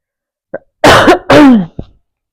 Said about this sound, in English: In my pretty deep cough there